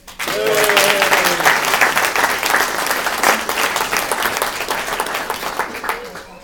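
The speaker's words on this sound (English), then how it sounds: "So a round of applause." Wedding guests give the bridesmaids a round of applause: loud, dense clapping from a large crowd close by, sustained for several seconds with voices and a brief cheer mixed in at the start.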